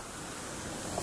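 High sea waves break on the shore, a continuous broad roaring wash that stays loud and even over a brief stretch, with no voices.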